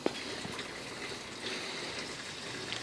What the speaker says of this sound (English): we're pumping water into this baby as fast as my hose will allow